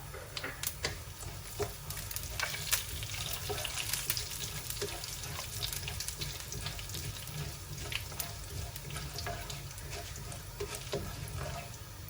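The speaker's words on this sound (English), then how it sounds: "Once the oil is hot, add in the cumin seeds and mustard seeds. Allow it to splatter." Cumin and mustard seeds splatter in hot oil in a pan, giving a soft continuous sizzle scattered with small sharp pops, close but fairly quiet.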